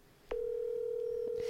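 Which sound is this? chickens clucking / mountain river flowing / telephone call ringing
telephone call ringing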